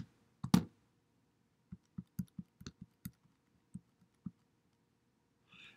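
Sharp plastic key presses on a calculator keypad, a louder click up front followed by about ten light, irregular taps spread over several seconds, close and quiet with no talking.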